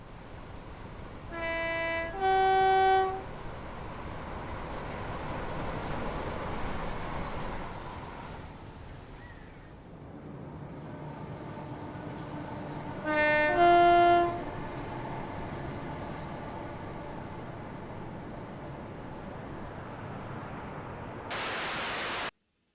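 Class 325 EMU electric train in Train Simulator, with a steady rumbling run and hiss, and two short two-tone horn blasts about ten seconds apart, the second followed by a brief noise burst before the sound stops.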